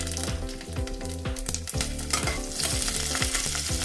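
Panch phoron and green chillies crackle and sizzle in a little hot mustard oil, loud and close, with dense popping and spattering and rapid stirring scrapes against the pan.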